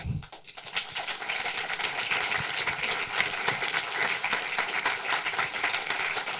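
Steady, dense applause from a film-screening audience greeting director Joachim Lang at a talk for the Brecht film Mackie Messer, a full wash of clapping that swells within the first second and holds evenly to the end.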